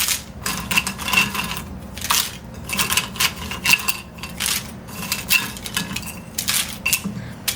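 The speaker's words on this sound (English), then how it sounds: "All the clothespins into the bag that we made." Wooden clothespins tumble from a bowl into a handmade cloth clothespin bag in a series of clattering, clicking bursts, each pour a short rattling cascade of knocking pins, close and fairly loud.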